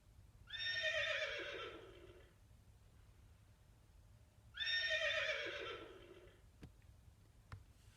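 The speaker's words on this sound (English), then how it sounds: "That could be called a neigh, or it could be called a whinny as well." A horse neighs twice, each whinny long and loud and clearly separated by a pause, followed by a couple of faint clicks in an otherwise quiet setting.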